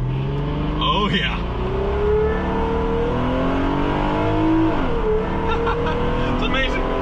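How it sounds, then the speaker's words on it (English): A Plymouth Prowler engine revs hard during a burnout attempt on ordinary pavement, its loud, steady drone rising and falling in pitch, close up, with a short spoken exclamation over it. "Let's see if it'll do a burnout on normal pavement."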